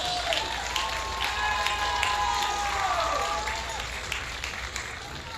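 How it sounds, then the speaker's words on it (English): Steady crowd applause and scattered cheering fill a stadium at a Navarro College football homecoming, continuous and broad under a faint amplified voice over the public address. "Let's give them a big round of applause."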